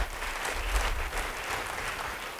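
Congregation applauding inside a church service, a dense, steady wash of clapping at moderate distance that holds for a couple of seconds without clear speech over it.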